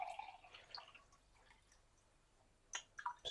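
Water poured into a glass in a kitchen, faint irregular splashes and drips that fade out midway, followed by a couple of sharper liquid plinks near the end.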